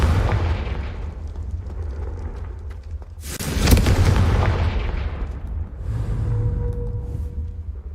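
A Confringo fire spell explodes in the video game Hogwarts Legacy, with a loud sudden blast midway that swells into a roaring burst and decays over a few seconds, preceded by rumbling ambience and followed by a fainter hum.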